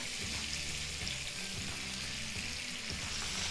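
Minced garlic sizzling in melted butter in a pan for creamy chicken alfredo, a steady close frying crackle with no talking.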